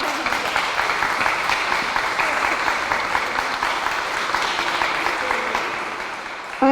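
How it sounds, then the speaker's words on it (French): Guests at a 100th birthday celebration in Sainte-Angèle-de-Mérici give sustained applause, a full, even roar of clapping lasting several seconds with a faint voice beneath it. "applaudissez-le"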